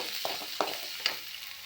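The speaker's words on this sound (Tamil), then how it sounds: "வெங்காயம் இப்போ நல்லா வதங்கிடுச்சு" Onions sautéing in a hot pan, a soft continuous sizzle broken by three quick spoon scrapes spaced evenly, close and moderately loud.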